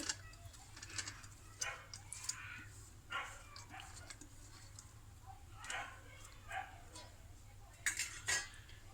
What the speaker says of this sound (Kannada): ಇವಾಗ ಈ ರೀತಿ 5 ಮೊಟ್ಟೆ ಹೊಡ್ಕೋಬೇಕು